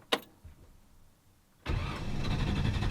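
A Ford Falcon's engine cranks briefly and catches, then settles into a loud, steady idle up close, after a click and a quiet pause.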